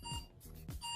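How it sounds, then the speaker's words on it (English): An electronic alarm beeps steadily, its bright repeating tones sounding close, with a low voice-like sweep briefly underneath. "Ooh, an alarm is going off."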